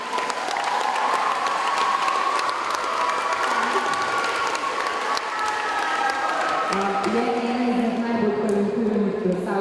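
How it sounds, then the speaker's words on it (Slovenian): Audience at a school talent show applauding dancer Nika: dense, steady clapping fills the hall from start to finish, with a few cheers and voices rising through it toward the end. "Tako da dajte en aplavz"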